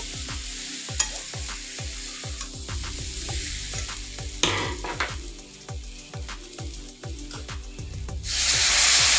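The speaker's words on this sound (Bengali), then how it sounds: "এবার উপর আর ভেজে রাখা আলুটা দিয়ে দিয়েছি আমি ভালোভাবে মশলার সাথে মিশিয়ে নিব মাখিয়ে নিব" Fried potatoes tossed into sizzling spice masala in a pan, a loud continuous frying hiss punctuated by regular scraping strokes of a spatula, with a burst of hissing spray near the end.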